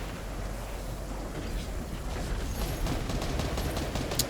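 Gunfire in Fortnite aimed at the player, a dense, steady rattle of shots mixed into a continuous game soundscape, with a few sharper bursts near the end.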